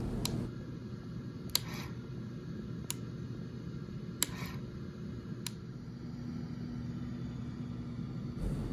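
A Festo SMS rotary actuator running at its fastest speed setting gives five sharp, evenly spaced mechanical clicks about a second and a half apart, set against a steady low hum.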